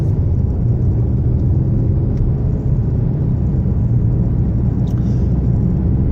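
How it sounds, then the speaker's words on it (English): A 2018 Hyundai Santa Fe Sport mid-size crossover on the road, its steady low engine and tire rumble filling the cabin continuously and fairly loudly with no one speaking. "Going for a quick spin in the 2018 Hyundai Santa Fe Sport."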